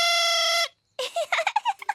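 A fantasy instrument called a fauvette à trompe in the Ben and Holly's Little Kingdom cartoon. A bright, sustained horn-like tone cuts off, then after a short pause comes a run of quick, chirpy, birdlike warbling notes.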